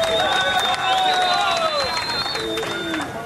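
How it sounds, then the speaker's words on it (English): Crowd applause and cheering for a Brazilian woman surfer at a pro surfing final at Margaret River, a steady broadband wash of clapping with whistles and voices riding over it, fairly near and sustained throughout. "The Brazilian storm lets her hear it with a big applause"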